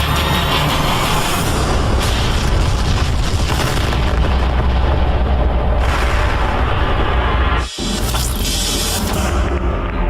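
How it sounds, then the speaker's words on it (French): A failed rocket launch erupts in a sustained, loud explosive roar with heavy low rumble, a near-constant blast that briefly cuts out near the end before surging again. "précisément à l'heure prévue de lancement, une terrible explosion s'est produite"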